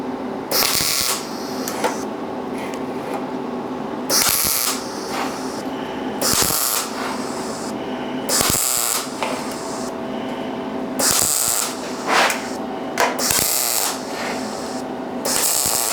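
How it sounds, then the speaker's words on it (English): MIG welder tack welding steel in the corner joint of a shield, with repeated short bursts of harsh crackling hiss every couple of seconds over a steady machine hum, each burst loud and close. "I'm welding right in the corner, right between the two."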